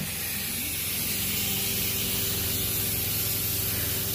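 A carpet cleaning machine sprays during a flood water clean-up with a loud, steady, close hiss that runs without a break, over a low motor hum and with no talk.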